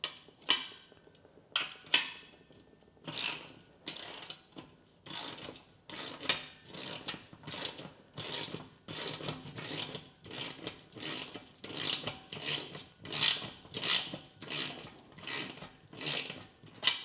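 A wrench turns bolts while a leg extension and leg curl home gym machine is being assembled, giving a close, steady run of rapid ratcheting clicks in repeated bursts with brief pauses between.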